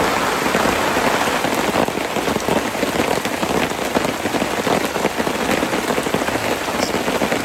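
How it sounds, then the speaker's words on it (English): Steady rain pours down on a campsite in a Texas national forest, a dense, loud patter on surfaces, close and continuous with no talk. "Now it's raining on us."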